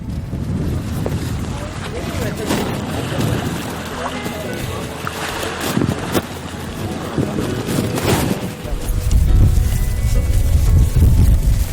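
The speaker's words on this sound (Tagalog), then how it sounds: "maalon tsaka mahangin yung panahon ngayon" Wind buffets the microphone over rough, choppy sea water sloshing against a boat, with people talking intermittently throughout.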